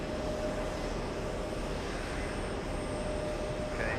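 An airliner takes off from an airport runway, its engines a steady broadband roar heard from a distance and holding constant throughout with no talk.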